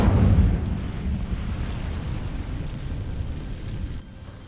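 An Incendio fire spell in Hogwarts Legacy sets dry vines alight: a loud, deep whoosh-burst opens, then a steady rumbling roar of flames carries on and drops off sharply near the end. No one speaks.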